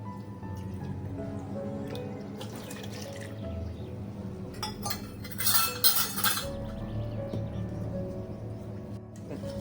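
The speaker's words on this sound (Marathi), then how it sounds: "आता पहिलं ह्याच्यात 1 कप पाणी टाकते." A cup of water is poured into ground semolina, a short splashing pour amid clinks of utensils against a dish, fairly close and without talking.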